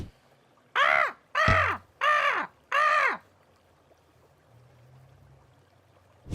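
Four loud, harsh raven caws in an evenly spaced series, each a rough downward-arching call, followed by quiet with a faint low murmur like a small brook.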